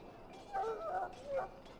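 A war hound in Dragon Age: Origins that swallowed darkspawn blood lets out two brief, high, wavering whimpers, close and soft, with faint sound in the background.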